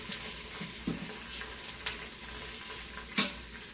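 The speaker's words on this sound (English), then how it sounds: "sausages are browning. I'm just going to flip them." Sausages sizzle and spatter in a hot pan, a dense close frying hiss broken by a few scraping knocks as they are turned over; no talking.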